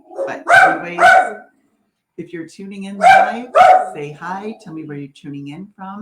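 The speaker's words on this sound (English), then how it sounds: "as soon as I went live, my dog started barking." A dog barks indoors during a live stream, two sharp barks near the start and two more midway, loud and close, while a person talks over and between them.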